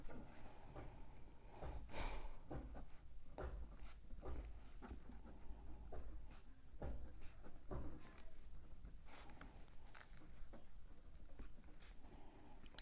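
A teacher writes out a Class 10 maths problem on a board: steady scratchy strokes and taps in irregular bursts, close and moderately loud, with no talking.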